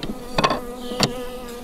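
Honeybees buzz with a steady drone close by at an apiary hive with a four-year-old queen, broken by a few sharp knocks or taps against wood.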